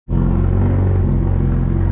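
Race cars at Yeongam International Circuit during a Nexen Speed Racing round, a steady loud engine rumble with strong low drone held throughout, close and continuous with no talk over it.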